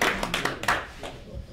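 A handful of people clap at a foundation's annual general meeting, several distinct close claps in a short uneven burst that quickly dies away.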